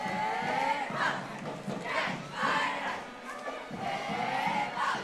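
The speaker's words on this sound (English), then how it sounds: "They're going to give us a little cheer there." A high school competitive cheer team shouts a chant in unison at an Independence Day parade in Oceanside, rhythmic group yells repeating in bursts with crowd noise around them.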